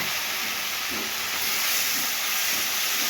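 Ground spice paste goes into hot oil with bay leaf and panch phoron, giving a loud, constant hiss of sizzling that holds steady with faint scrapes underneath.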